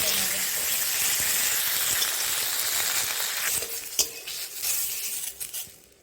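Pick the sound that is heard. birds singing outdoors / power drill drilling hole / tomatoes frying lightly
tomatoes frying lightly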